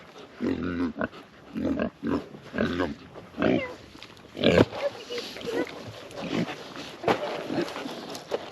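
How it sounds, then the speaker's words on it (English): Pigs grunt and squeal on a farm at feeding time, close and loud in irregular bursts, with a man calling out to them among the animal noises. "Got the lucky pigs today."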